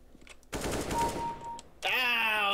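AK rifle fire in Counter-Strike: Global Offensive, a loud burst of rapid shots followed by a brief lull, then a sharp ringing electronic tone.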